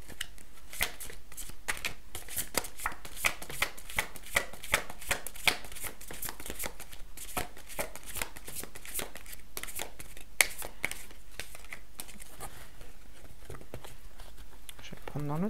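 Oracle cards are shuffled by hand in a fast, continuous patter of papery riffles and taps, close and fairly loud, running steadily throughout.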